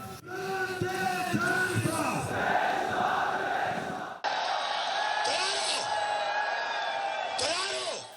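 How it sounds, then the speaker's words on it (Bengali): Thousands of protesters in Islamabad chant slogans demanding Imran Khan's release. Loud, rhythmic shouted calls rise and fall in waves and are cut by a sharp edit midway, with more chanting after it. "হাজার হাজার ইমরান সমর্থক বিক্ষোভ করেছেন রাজধানী ইসলামাবাদে স্লোগান দেন ইমরান খানের দ্রুত মুক্তির"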